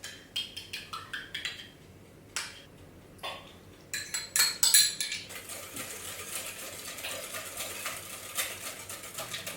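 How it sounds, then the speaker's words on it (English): A utensil mixing a flour mixture and eggs in a bowl gives quick, rhythmic clinking taps against the bowl at first, then a few isolated knocks and a softer, continuous stirring scrape, close but fairly quiet. "mix together your flour mixture and your eggs"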